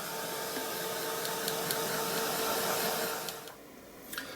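A hair dryer runs steadily, blowing to dry buff paint on an art journal page, a continuous airy whir that holds level and then eases off slightly near the end, with no talking.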